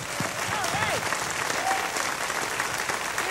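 A studio audience at a Christian television talk show claps steadily throughout, a dense and fairly loud wash of hand clapping with a faint voice or cheer rising briefly above it.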